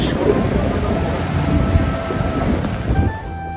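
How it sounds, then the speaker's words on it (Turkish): Steady, loud wind roars across the whole clip at Manavgat Waterfall in Antalya, Turkey, a dense rushing noise with low buffeting gusts and no pauses. "Baya baya rüzgar var."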